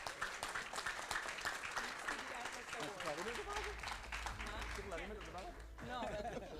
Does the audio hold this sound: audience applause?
yes